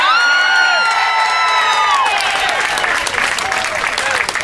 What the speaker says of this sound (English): Another round of applause for our governor